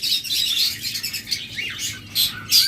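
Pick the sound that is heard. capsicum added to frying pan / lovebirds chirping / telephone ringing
lovebirds chirping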